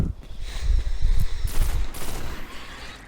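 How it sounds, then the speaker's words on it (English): The Grasp of Malok pulse rifle fires in Destiny: The Taken King, rapid burst fire in quick clusters, loud and close, with sci-fi crackle. "this particular pulse rifle I'm using right now, which is by the also infamous name, the Grasp of Malok"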